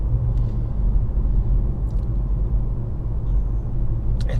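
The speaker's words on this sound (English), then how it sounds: "It's some tire noise in here, not dreadfully much, but it's there." Steady low rumble of tire and road noise heard from inside a Hyundai Kona on winter tires, continuous and moderately loud, with a few faint ticks above it and no speech.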